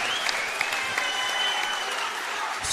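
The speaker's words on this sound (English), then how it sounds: "let's give both boxers a round of applause." A crowd at a professional boxing night at Doncaster Races applauds both fighters, Callum Simpson and Elvis Dube, with sustained, dense clapping that carries evenly from start to finish.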